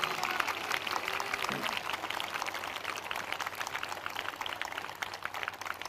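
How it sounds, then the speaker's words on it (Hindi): A church congregation at a prophecy service clapping in thanks, a dense steady wash of many hands filling the room at an even, sustained level throughout. "वो ताली बजाकर धन्यवाद कर रहे हैं"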